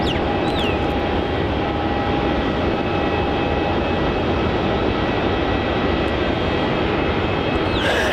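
A Qantas airliner arrives at Melbourne Airport on a flight from Sydney, giving a loud, continuous jet engine roar with a steady high whine throughout, close by and with no voices.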